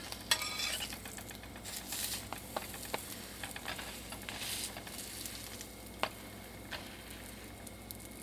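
Vegan quesadillas sizzle in vegan butter in a pan as they are flipped, a quiet steady crackle broken by scattered clicks and scrapes of the utensil against the pan.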